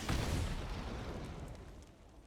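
A fiery Play with Fire spell effect from Magic: The Gathering Arena: one loud, rumbling burst that swells at once and then slowly fades, with no talk over it.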